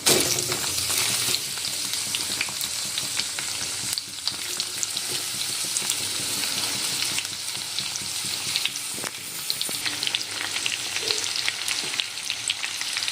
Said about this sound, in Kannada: ಇವಾಗ ನೋಡಿ ಚೆನ್ನಾಗಿ ಫ್ರೈ ಆದಮೇಲೆ ಈರುಳ್ಳಿ ಹಾಕ್ಕೊಳ್ಳೋಣ.